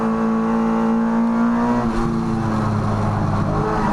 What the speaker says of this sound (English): listen to this little Mini